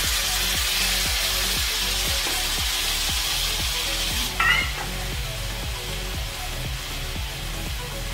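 Tomato paste sizzles in hot oil in a kadai while kadai paneer is cooked, a steady loud frying hiss with a rhythmic scraping stir and a brief clatter midway.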